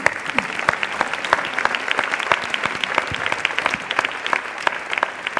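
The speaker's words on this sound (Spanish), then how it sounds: "Yo os pido que le deis un aplauso," A conference audience applauds a visiting secretary of state at a morning event, with sharp, irregular individual claps standing out over a steady bed of clapping for several seconds.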